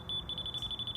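A laser level receiver on a grading job beeps rapidly and steadily in a fast repeating pulse, faint against low outdoor background noise.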